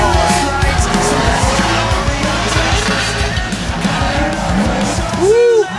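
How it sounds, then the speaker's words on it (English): A drift car with a big engine in a small body roars at full throttle through a drift competition pass, tires skidding and squealing continuously, loud and close, with a sharp tire squeal near the end. "That's a big engine in a little car."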